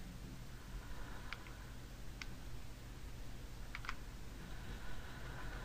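A few soft, scattered computer keyboard key presses click quietly over a steady background hiss while working in Sony Vegas video editing software, with no talking.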